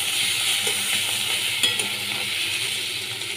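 Spices sizzle in hot oil in a pan as ground coriander, cumin and chicken masala are stirred in, giving a steady close frying hiss with occasional light scrapes and clinks of the spoon, and no voices.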